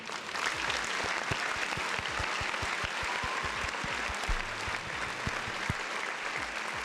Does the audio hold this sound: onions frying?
no